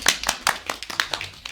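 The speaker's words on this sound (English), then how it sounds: "we should applaud to ourselves" A lecture class applauds itself at the end of a group task, a steady patter of hand claps from a modest crowd, fairly close and moderately loud, with irregular rhythm over a low room hum.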